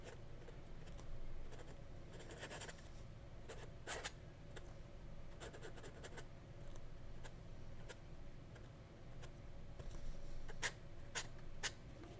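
A flexy, wet vintage fountain pen nib scratching across paper while writing, faint close strokes and light ticks in irregular bursts over a quiet room hiss.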